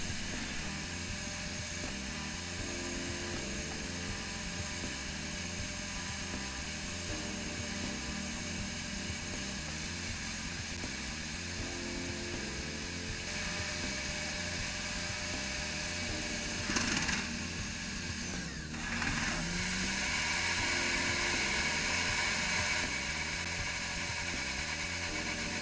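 A CNC milling machine mills leftover material from free-form surfaces, a steady droning whir with a rhythmic pulse throughout, briefly broken by a couple of short swelling bursts near the end.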